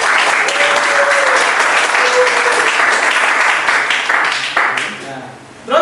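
A classroom audience claps in sustained, dense applause for a student's presentation, loud and close, tapering off near the end.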